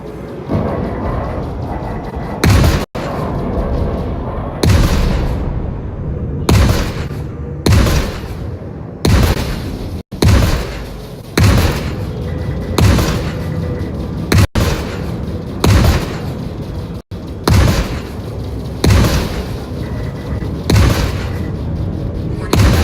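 Missiles firing and exploding in the space combat game Star Citizen, flown in an Anvil Arrow fighter against a pirate swarm: a rapid series of loud booming blasts, each sharply struck and then decaying, repeating every second or two.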